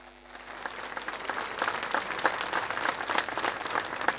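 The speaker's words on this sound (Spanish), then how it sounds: "Ese aplauso" Audience applause for a singer at a soloist showcase during the San Rafael 2016 festival, a dense wash of clapping that swells after a soft start and holds steady, alone without talk.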